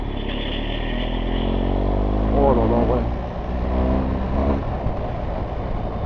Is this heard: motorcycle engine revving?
yes